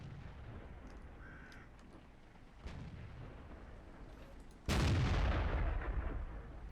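A tank cannon fires in the World of Tanks video game with a sudden loud boom and a sustained rumbling tail. Fainter distant gunfire and game effects come before it, with no talk.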